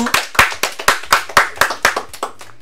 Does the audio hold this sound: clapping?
yes